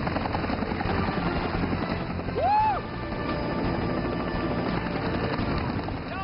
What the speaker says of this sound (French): Les hélices sont un boucan d'enfer.